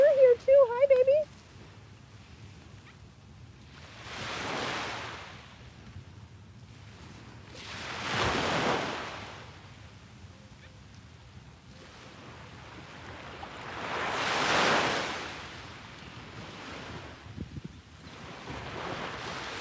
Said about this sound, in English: soak in the sounds of the waves